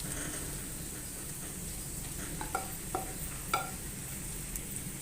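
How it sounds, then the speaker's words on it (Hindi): Boiled mashed potatoes go into a hot pan of mixture for aloo naan filling, bringing a soft, constant sizzle with a few light stirring taps and thuds. "तो अब हम आलू ऐड करेंगे।"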